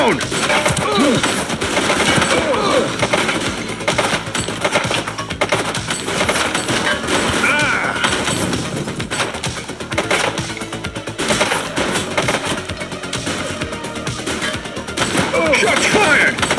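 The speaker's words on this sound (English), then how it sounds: "Shots fired!" Dense, continuous gunfire in the police game The Precinct, with rapid bursts and overlapping shots blending into a loud, chaotic barrage that lasts throughout, close and heavy, with voices shouting beneath it.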